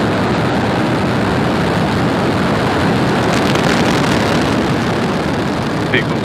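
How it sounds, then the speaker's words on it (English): A SpaceX Falcon 9 lifts off from SLC-40 at Cape Canaveral, its engines producing a loud, constant, broadband roar that fills the whole stretch without letup. "Ignition. Engines full power. And liftoff."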